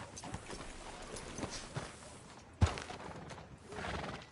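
A horse whinnies amid clopping hooves and general bustle in a video game, with a sharp thump partway through; the scene sounds busy and moderately loud.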